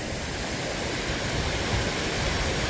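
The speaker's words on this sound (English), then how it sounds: "There's a creek down there." A mountain creek flowing over mineralized, oxidized rocks gives a steady, broadband rush of running water, close and continuous, with no voices.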